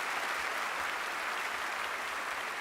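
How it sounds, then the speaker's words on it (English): A large audience at a NASCAR champion's speech applauds with steady, dense clapping that holds at an even level throughout, with no voices over it. "This is the clap moment."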